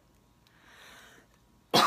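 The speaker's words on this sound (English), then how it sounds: "had to cough." A single abrupt, loud cough bursts out close to the microphone at the end, after near silence with a faint breathy sound.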